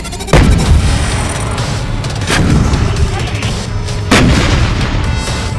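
Israeli army artillery guns fire shells at Gaza targets, with three heavy, loud booms spaced a couple of seconds apart, each followed by a long rumbling roll over a constant background din.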